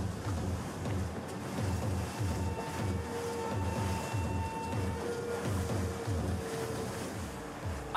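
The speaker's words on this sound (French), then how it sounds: "Nos moteurs tournent au ralenti pour réduire le bruit." Boat engines idling at low revs out at sea at night, a steady low throb under wind and surf wash, continuous and moderately close with no talk.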